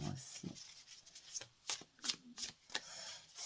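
Tarot cards are handled and shuffled, giving soft riffling flicks and several crisp papery bursts, close and quiet, with low speech underneath at times.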